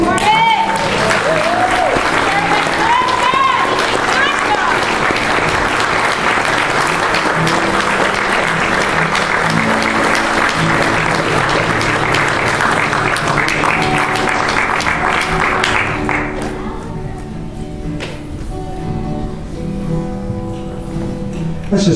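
A church congregation claps during a Sunday morning service, sustained loud applause with some music and voices mixed in for about sixteen seconds before it drops away into quieter room sound and speech.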